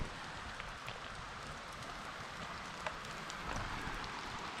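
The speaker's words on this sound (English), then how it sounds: "it would be nice if it wasn't raining" Steady rain hisses over the whole stretch, a dense even wash with a few sharper drops standing out, nothing else on top.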